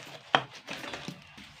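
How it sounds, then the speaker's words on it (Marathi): A single sharp chop into jackfruit with an oiled blade, followed by a couple of softer knocks and faint cutting sounds, close and quiet. "आणि हा आता फणस मी कट करते"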